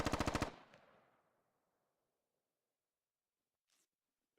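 Gunfire in the video game Squad: a rapid burst of about seven loud automatic shots, then a long fading echo tail, followed by two brief faint cracks after silence.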